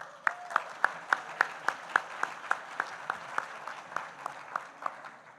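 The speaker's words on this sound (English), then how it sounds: "Let's give that group of sponsors another round of applause." Audience at a credit union hall of fame induction ceremony applauding sponsors, with a few distinct claps landing in a regular rhythm over a soft, thin patter of clapping.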